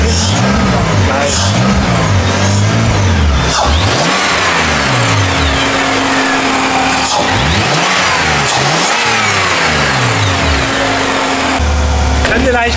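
A BMW 325 with turbo and supercharger revs hard at full throttle in repeated rising and falling bursts, loud and close, with a steady tone holding in between and people talking over it.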